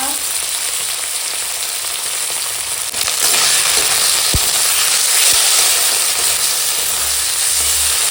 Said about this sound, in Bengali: মশলাটা একটু কষিয়ে নিচ্ছি